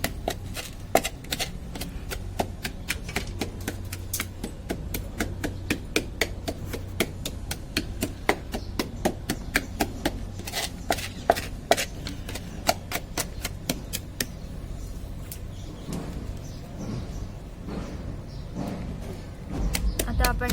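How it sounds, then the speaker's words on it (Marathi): Chillies, garlic and salt are pounded in a wooden vessel, a steady run of sharp, close thuds repeating quickly for the whole stretch, with faint talk in the background. "त्याच्यामध्ये आपण मिरच्या लसूण आणि मीठ घातलेलं आहे ते इथे पप्पा आपल्याला ठेचून देत आहे"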